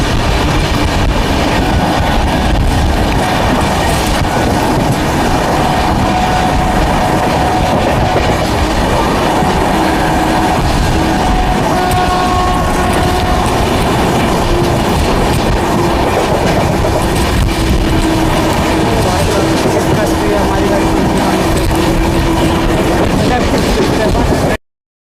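Inside a moving New Delhi to Gaya summer special passenger train, a loud continuous rumble with rhythmic wheel clatter and occasional faint squeals, steady throughout at close range.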